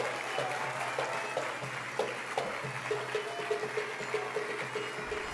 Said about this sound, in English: Please welcome them with a huge round of applause, ladies and gentlemen.